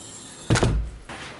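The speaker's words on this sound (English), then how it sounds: "I can't even shut the door!" An apartment door in Reykjavik shoved against strong wind, a single heavy thump with a brief rattle, then a second softer knock, close and loud.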